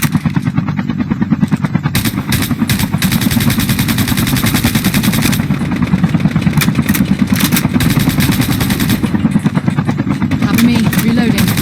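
A helicopter in Call of Duty Mobile thrums with a fast, even rotor chop that is loud and continuous, mixed with clattering gunfire, while voices talk over it.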